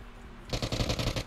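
Rapid burst of close, loud blasts from an airstrike in a video game, hitting in quick succession like heavy automatic fire for about a second after a brief lull.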